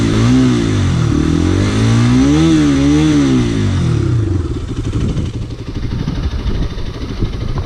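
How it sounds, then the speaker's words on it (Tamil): A Bajaj Pulsar RS200 motorcycle's exhaust revs up and down loudly and close by in rising and falling sweeps, then settles into a rough, throbbing idle with no one talking. "வண்டியோட எக்ஸாஸ்ட் நோட் கேட்போங்க கைஸ்."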